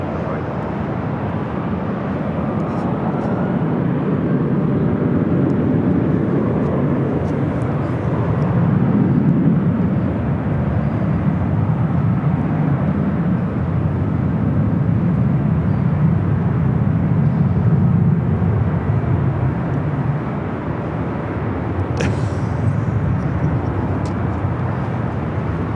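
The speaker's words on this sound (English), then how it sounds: "Air France, the 777 arriving on the south side" Air France Boeing 777 arriving at Los Angeles International Airport, a broad steady jet roar that swells and eases over nearly half a minute, heard from the airport surroundings.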